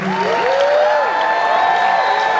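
A Halloween Horror Nights panel audience cheers and claps continuously, loud and steady, with whoops and voices rising above the applause.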